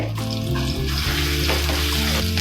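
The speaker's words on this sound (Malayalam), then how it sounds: "എണ്ണ ചൂടായി അതിലേക്ക് വെളുത്തുള്ളിയും ഇഞ്ചിയും കൂടി ഇട്ട് കൊടുക്കാം" Garlic and ginger fry in hot oil for a jackfruit seed curry, giving a steady, dense sizzle that runs the whole time. Low tonal hum sits underneath, and no one speaks.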